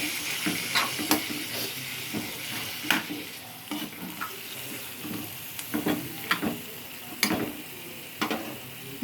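A spatula stirs chicken fry in a hot pan, with a steady loud sizzle under repeated scraping strokes at an uneven rhythm, close up and with no talking.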